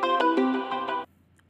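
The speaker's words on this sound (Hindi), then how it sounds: "आपने सुना यही यही रिंगटोन बजने लगता है" A mobile phone's ringtone, triggered remotely to locate the lost handset, plays a bright repeating melodic tone for about a second before cutting off, close and loud with no talk.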